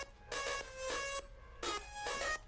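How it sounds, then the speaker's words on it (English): A synth lead layer built in Ableton's Operator with heavy frequency modulation and shifting envelopes, playing bright buzzy chopped notes in rhythmic bursts separated by short gaps, clean and alone without voices. "So I used the operator synth again"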